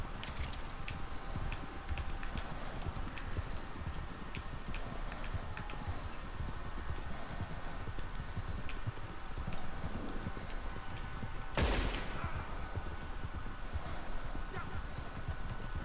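Horse hooves in Red Dead Redemption 2, a continuous quick clip-clop of galloping on a road with a rattling carriage feel, steady and close, with a sharp noisy burst partway through.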